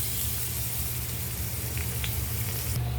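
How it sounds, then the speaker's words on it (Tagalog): Garlic sizzling in hot oil seasoned with pepper in a pan, a steady loud frying hiss that carries on without pause from start to finish. "Ngayon, ilagay natin ang bawang."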